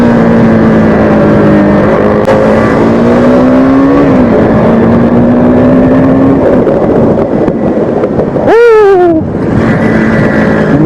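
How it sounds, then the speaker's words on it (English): A sport motorcycle's engine braking while riding comes through loud and close, a droning engine tone sliding and falling as revs drop, with a sharp rev blip and downshift near the end. "Nice engine braking."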